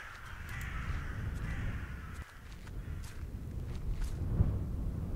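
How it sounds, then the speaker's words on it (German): Crows caw repeatedly in the video game The Last Door, several harsh calls rising over a low rumbling ambient bed, with a soft thud midway. "Das sind die Krähen."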